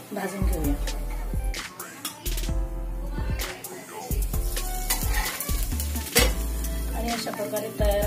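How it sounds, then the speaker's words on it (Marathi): Thalipeeth flatbread roasts in a covered pan, giving a close, steady sizzle with occasional clinks and scrapes of cookware; a voice speaks over it at times. "दुसऱ्या बाजूने आपण झाकण ठेवून तसंच ते भाजून घेऊया"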